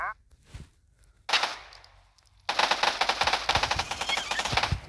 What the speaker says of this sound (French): Donc le pistolet mitrailleur UMP 45.